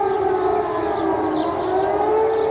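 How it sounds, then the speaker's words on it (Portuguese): Air raid sirens wail over Baghdad in the early morning, a loud, sustained civil defense tone with slowly wavering pitch filling the whole stretch. "quando se ouviram as primeiras sirenes"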